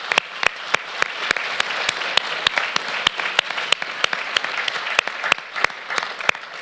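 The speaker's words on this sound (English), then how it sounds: "one more round of applause for all of our speakers this afternoon" Conference audience applauding the afternoon's presenters, steady dense clapping with a few sharp individual claps standing out, sustained throughout at close range.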